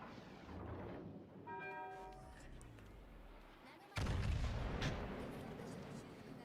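High-explosive shells strike a warship in the naval battle game World of Warships: Legends, a sudden loud blast bursting over steady engine rumble and falling sea noise, following a lower, quieter stretch with a brief tonal cue.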